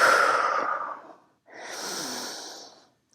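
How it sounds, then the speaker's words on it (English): Breathing during a pilates stretch in child's pose or downward dog: one long, soft breath, then a short pause and a second airy breath, close and alone with no talk. "Find your exhale."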